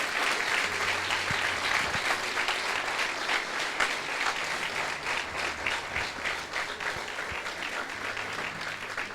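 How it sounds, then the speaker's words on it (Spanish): A church congregation applauds during worship, sustained loud clapping from many hands that fills the room for several seconds, with faint low sounds beneath but no talk. "Dale un fuerte aplauso al Señor."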